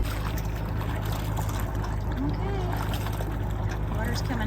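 Cooling water trickles and pours from the outboard motor of a sailboat at a resort dock while the engine hums steadily underneath, a close, continuous splashing with voices talking over it.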